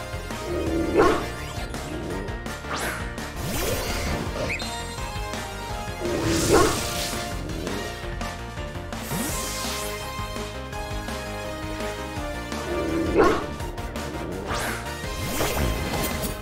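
A Pokémon barks in Pokémon Violet, with sharp bark-like bursts and crashing battle effects repeating about every six seconds over steady game music.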